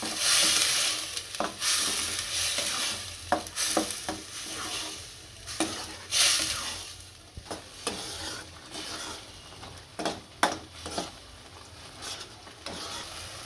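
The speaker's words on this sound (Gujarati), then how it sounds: "હવે ટમેટાની પ્યુરી નાખશું આને સડવા દઈશું" Tomato puree sizzles softly in a pan while a utensil scrapes and stirs in repeated short strokes.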